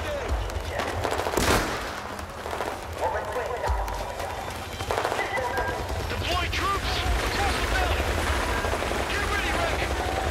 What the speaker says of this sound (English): Where are they shooting at?